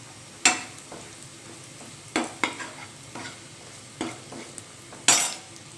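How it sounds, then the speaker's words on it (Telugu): Onions frying in a pan with chilli powder and turmeric: a soft steady sizzle is broken by several sharp stirring scrapes and clinks of a utensil against the pan, close and moderately loud. "ఇక్కడ పక్కన ఆనియన్స్ అంతా ఫ్రై అయిపోయింది. దాంట్లో కొద్దిగా కారం, కొద్దిగా పసుపు అండి."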